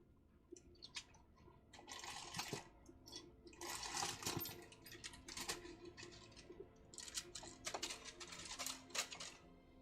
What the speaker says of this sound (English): Packet of biscuits was underneath my keyboard.